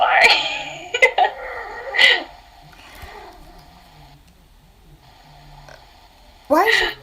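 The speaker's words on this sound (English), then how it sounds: "Why is your cat mad at you?" A cat making several sharp, whiny vocal cries in quick bursts near the start, going quiet in the middle and then giving one more loud cry at the end, sounding upset and close by.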